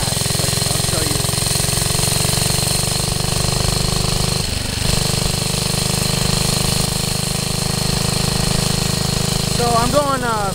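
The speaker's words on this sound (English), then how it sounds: "the engine's gonna start bogging out when you get very fast" A small engine with a worn-out centrifugal clutch drones steadily and close, its pitch sagging and straining midway as it bogs at high speed, then revving upward near the end.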